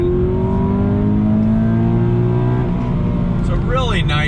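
A 2020 Subaru BRZ tS takes a right-hand bend, its engine droning steadily up close while someone talks over it, the pitch easing slightly near the end.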